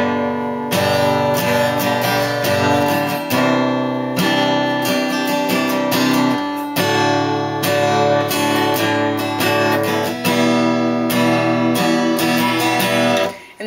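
An acoustic guitar plays a steady chord progression, strummed rhythmically and close up, continuing without pause for several bars.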